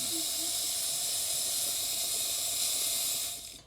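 A steady, loud hiss of steam blasting from a cheap Lafeeca espresso machine's steam wand, continuous for a few seconds before tapering off at the end.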